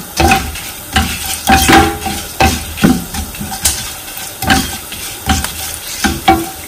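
Chillies and curry leaves sizzle and fry in a pan for Kerala sambar, stirred with repeated scraping strokes over a steady crackle, close and fairly loud, with no talk.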